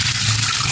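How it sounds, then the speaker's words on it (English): Water runs in a steady, fairly loud gush as dried beans are rinsed before cooking stew peas, an unbroken pouring hiss with no talking. "so I'm washing my beans"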